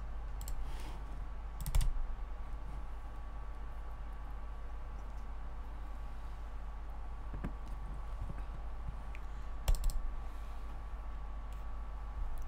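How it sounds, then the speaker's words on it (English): Computer keyboard and mouse being clicked during play of The Outer Worlds, a faint steady pattering of small clicks over a low hum, with a couple of sharper louder clicks standing out. "This clicking is driving me insane."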